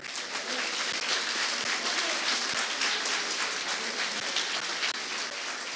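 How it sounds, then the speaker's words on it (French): Audience applause at an osteopathy college graduation ceremony, a dense, sustained patter of many people clapping at moderate volume, continuing evenly throughout. "On peut applaudir Hugo"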